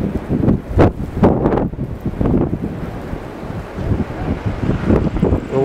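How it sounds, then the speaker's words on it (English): Gusty wind during a 2011 snow storm buffets the microphone in rough, uneven surges, with a steady rushing roar between stronger blasts. "The wind has calmed down though."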